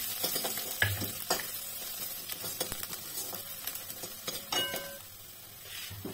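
Curry leaves and chopped garlic frying in a pan, a faint continuous sizzle broken by scattered clinks and scrapes of a spoon against the metal.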